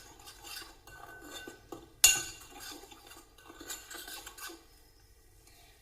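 Rice flour and salt are stirred in a large bowl, with quiet scraping and light clinks of a spoon against the bowl and one sharper knock partway through.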